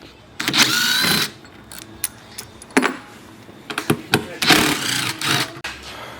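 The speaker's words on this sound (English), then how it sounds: "Remove the screws. This is a 5/32 Allen." A 5/32 Allen key backing screws out of a battery bracket in a Roadtrek or Hymer camper van, heard as scattered close metallic clicks, scrapes and rattles in short bursts with pauses between.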